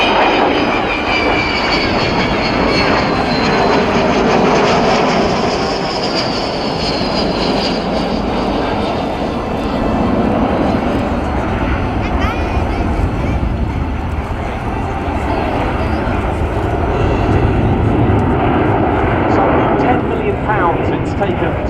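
A delta-wing Avro Vulcan XH558 jet bomber performs a flying display at Waddington in 2013, a loud, continuous jet roar that swells and fades slightly as it turns, with an announcer talking over it.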